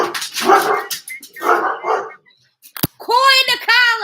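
Several dogs barking in the background, a short run of loud, high yapping barks near the end, after a person talks in the foreground.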